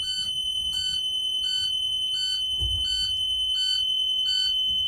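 A high, shrill bus emergency door alarm beeps in a fast steady pattern, with a faint low thump partway through.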